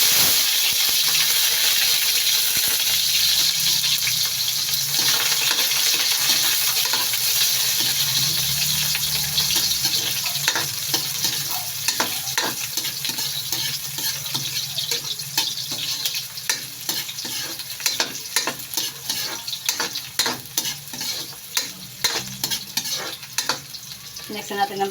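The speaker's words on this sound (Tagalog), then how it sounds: "At ready na tayong mag-gisa." Ginger sautéing in hot oil as the base for chicken feet adobo, a steady close sizzle and hiss with frequent stirring scrapes, no talking.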